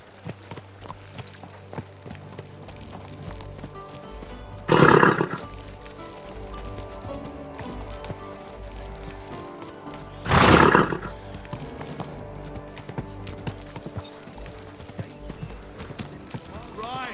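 Horse hooves clop steadily on a hard surface while a horse lets out two loud whinnies several seconds apart, in the video game Kingdom Come: Deliverance 2.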